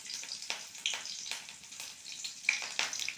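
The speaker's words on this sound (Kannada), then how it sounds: "ಚೆನ್ನಾಗಿ ಫ್ರೈ ಆಗ್ತಾಯಿದೆ ಎಣ್ಣೆಲಿ ಅದು." Garlic and green chilli frying in hot oil in a pan, a close, steady crackling sizzle with scattered sharp pops and faint stirring, no voices.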